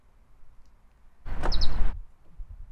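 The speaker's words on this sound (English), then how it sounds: "It's a bird singing sound." Rivian R1T pickup truck lock chime, a short bird-like chirping tone about a second long, heard outdoors against faint wind noise.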